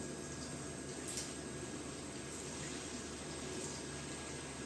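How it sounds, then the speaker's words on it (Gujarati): Manchurian balls frying in oil over low heat give a faint, steady bubbling hiss that holds evenly throughout, with no voices. "હવે આપણે આ થોડાક છે એને પણ તળી લઈશું"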